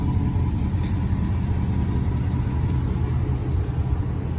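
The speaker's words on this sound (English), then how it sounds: "So naturally we have the Flowmaster Super 44 on here." A 2003 Ram pickup's 5.7 Hemi V8 idles through a Flowmaster Super 44 exhaust at 186,000 miles, a steady, close, deep rumble that holds even throughout with no revving.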